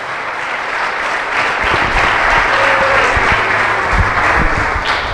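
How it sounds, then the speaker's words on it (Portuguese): Loud congregational applause during an anniversary church conference service, a full steady roar of clapping from a large crowd sustained throughout, with faint low voices or music underneath. "dar um aplauso ao Senhor"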